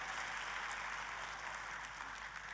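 A church congregation applauding for God at a service, a dense, steady wash of clapping throughout, fairly distant and even, with no pauses.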